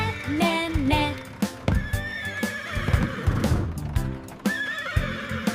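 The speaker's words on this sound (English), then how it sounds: "The horses on the bus go net, net, net." Horses neigh and whinny several times, loud and close, with shrill rising calls over a busy mix of hoof clip-clop and other farmyard noise throughout.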